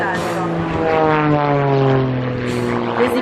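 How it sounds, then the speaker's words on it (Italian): A Corvus Racer CA41 aerobatic airplane flown by Francesco Fornabaio at the Jesolo Air Extreme 2011 airshow in Italy; its loud, droning propeller engine passes close by, the pitch sliding steadily downward as it goes. "il Corvus Racer CA41, un superaereo acrobatico capace di grandi evoluzioni"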